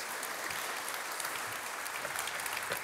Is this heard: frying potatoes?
no